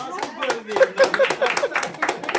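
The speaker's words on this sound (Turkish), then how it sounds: "Bir alkış alabilir miyiz?" Scattered hand clapping from a small group breaks out after a correct quiz answer, quick uneven claps mixed with voices talking over them.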